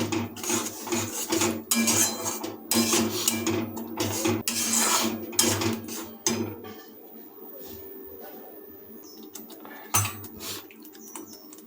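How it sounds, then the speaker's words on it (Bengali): A metal spatula stirs doi maach, fish cooked in yogurt, in a pan: bursts of loud scraping and clanking against the metal, rhythmic and close, broken by a quieter pause before a final scrape. "এবার খুন্দিতে ভালোভাবে এটাকে নাড়িয়ে নেব"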